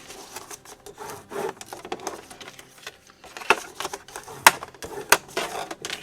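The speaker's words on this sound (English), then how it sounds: "we're going to fold along the score lines" Paper for a 12-page mini album folded along score lines makes soft rubbing and scraping, with a few sharp creases snapping near the end, close and without speech.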